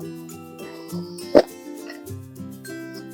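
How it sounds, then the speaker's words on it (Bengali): A spoonful of salt drops into a pan of boiling water with one sharp, close plop, while the low bubbling of the water continues around it. "জল ফুটে উঠেছে, আমি 1 চামচ নুন দেবো"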